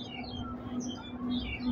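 Birds chirp faintly in Kowloon Walled City Park in Hong Kong, a tree-filled garden, with scattered high calls over a low steady hum of the surroundings.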